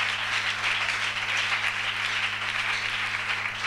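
A church congregation applauds together, a dense, steady wash of many hands clapping that holds at even loudness throughout, with no voices standing out.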